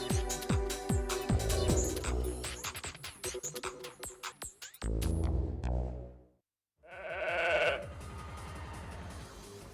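Sheep bleat loudly and repeatedly at close range, a run of wavering cries that break off into a brief silence before one more long bleat, with no talking.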